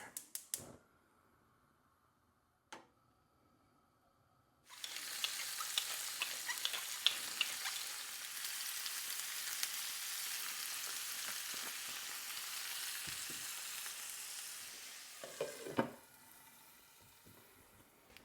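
Four-year-old home-canned potatoes seasoned with adobo, cracked black pepper and Tabasco fry in a pan, giving a soft, steady sizzle for about eleven seconds after a few quiet clicks.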